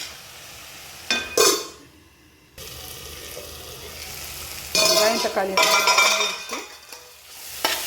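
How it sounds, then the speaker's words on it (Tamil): Onion and tomato sautéing in a pan for a prawn gravy, with a sizzling hiss and stirring scrapes that come in bursts, broken by a short near-silent gap, then a louder stretch of stirring and frying. "வெங்காயம் தக்காளி நல்லா வதங்கிடுச்சு"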